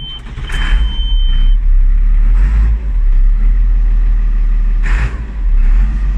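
A Ford 7810 Silver Jubilee tractor with a six-cylinder engine starts up, its loud low rumble settling into a steady idle with a few brief surges.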